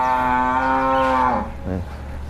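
Brahman crossbreed cattle at a livestock market give one long, loud, close moo that holds steady and then trails off, followed by a brief shorter lowing call, with no talk over it.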